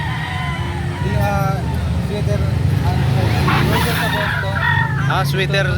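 Nine-month-old stag gamecock crowing at a busy outdoor gathering in Lipa City, Batangas, the crow rising clearly over steady crowd babble, traffic noise and nearby talk.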